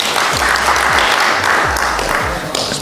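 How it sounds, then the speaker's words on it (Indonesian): Members of the Indonesian House of Representatives (DPR) clapping in a parliamentary session, a sustained, dense burst of applause that stays loud across the whole stretch, with a faint voice or two underneath. "DPR tepuk tangan"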